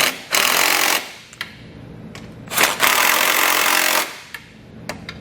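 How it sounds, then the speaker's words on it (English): Impact wrench or ratchet with a 13mm socket tightening bumper beam bolts while fitting a Demco tabless base plate on a 2018 Chevrolet, with loud bursts of mechanical whirring and rattling, two long runs and several short taps. "we can tighten up those bumper beam bolts because we know our 2 pieces of hardware are lined up and going through"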